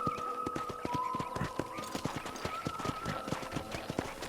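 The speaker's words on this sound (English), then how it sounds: "I picked out a fine horse for you. Giddy up!" A horse gallops in Red Dead Redemption, a quick, steady clip-clop of hooves pounding the ground with a rhythmic beat over a faint ambient hum.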